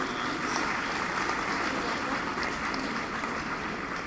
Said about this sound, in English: Give them a round of applause on the grade 9s.